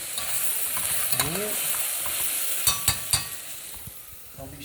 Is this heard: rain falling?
no